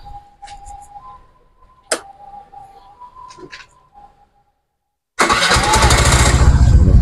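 A Suzuki Burgman scooter fitted with a stainless stock muffler on its original elbow. After a quiet stretch of faint beeps and clicks, the engine fires up loudly and runs at a close, steady idle to the end.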